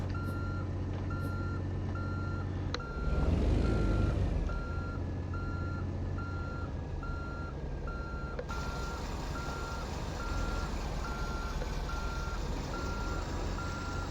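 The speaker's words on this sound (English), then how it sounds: "First reverse of the new truck." A new truck in American Truck Simulator backs up with a steady, evenly spaced reversing beep over a constant engine drone, and a brief surge of louder engine noise comes early on.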